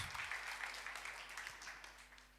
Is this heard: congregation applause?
yes